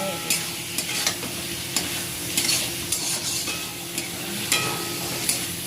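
Potatoes being stir-fried with spices in a pan for a Bengali hilsa fish curry, a steady sizzle with repeated scraping and stirring clicks close up, no voices.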